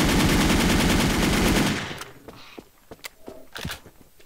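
A magazine emptied in the Wolf Team video game: a loud, rapid automatic burst lasting nearly two seconds, then a few scattered, fainter shots and clicks.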